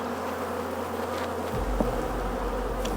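Honey bees buzz densely and continuously around an open hive during a hive split, a loud close drone that holds throughout with a low thump partway through.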